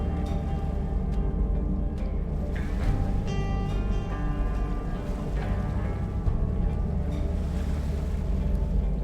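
A fishing boat moving through open sea in the game Deadliest Catch, with a low engine rumble, rushing water and wind, plus a few soft tonal chimes.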